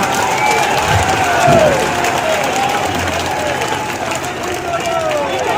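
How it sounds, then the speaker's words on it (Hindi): A political rally crowd applauds and cheers with raised hands, a dense, loud wash of clapping and voices that holds steady throughout, with a whistling tone sliding through it. "आप सब लोग हाथ उठाकर ताली बजा के बता दीजिए तो मैं मान लूं।"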